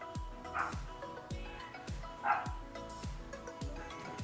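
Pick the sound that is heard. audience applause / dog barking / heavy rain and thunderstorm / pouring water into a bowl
dog barking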